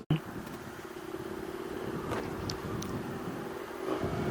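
Indian FTR S motorcycle at speed on the road, a steady, fairly loud engine drone with wind noise throughout and a slight rise in level near the end.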